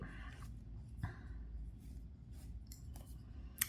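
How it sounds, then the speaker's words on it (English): Scissors snip through crochet yarn while a baby mobile is finished, giving a couple of faint, short clicks over a quiet, low background hum with no talking. "But on the first one we will cut the yarn."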